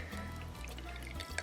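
A sweet vegan cocktail pours out of a shaker toward a champagne flute in a close, steady liquid trickle with light dripping and splashing.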